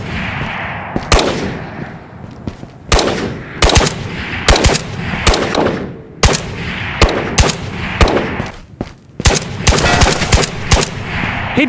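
Gunfire in the VR shooter Ghosts of Tabor, with loud, close bursts of rapid automatic shots in repeated volleys separated by brief pauses, dominating the mix.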